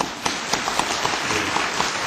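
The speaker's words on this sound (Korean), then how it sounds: "박수 한번 칩니다" A church congregation at an anniversary thanksgiving service claps in a steady, regular rhythm, each beat a sharp collective clap, fairly faint in a reverberant hall.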